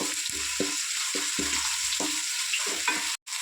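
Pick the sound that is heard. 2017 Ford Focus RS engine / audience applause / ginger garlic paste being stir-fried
ginger garlic paste being stir-fried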